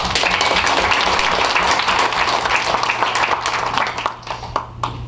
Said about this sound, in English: we should applaud the judge for what he does for our society and all of us